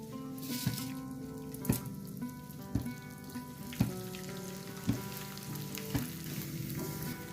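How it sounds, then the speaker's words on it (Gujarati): Edible gum fries in hot ghee in a kadai for adadiya paak, giving a steady close sizzle. Regular spoon taps against the pan come about once a second, and no one speaks. "ઘી ગરમ થઈ ગયું છે, હવે આપણે તેમાં ગુંદ એડ કરીએ"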